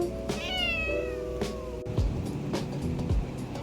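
A cat meows in several drawn-out, rising calls close by, with quieter indoor background noise around it.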